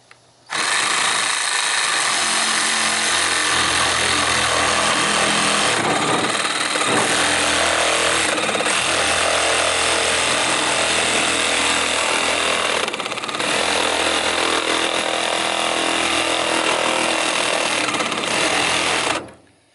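A Craftsman 19.2V cordless power tool whirs loud and steady for about twenty seconds, with a few brief dips where the motor slows and picks up again, and no talk over it.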